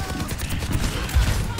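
Dense, rapid gunfire from the video game Overwatch, a continuous rattling burst of shots heard loud and close with game effects layered in.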